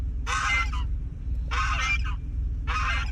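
Three loud honks from a goose, evenly spaced and close by, over a low rumbling background.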